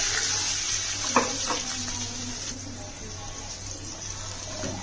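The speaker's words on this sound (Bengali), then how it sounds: "এখন আমি এর মধ্যে দিয়ে দিব দুই কাপের মতো পানি" Water, about two cups, poured into a pan while cooking spicy Korean-style noodles, a steady running gush close by with a few light clinks from the pan, and no talking.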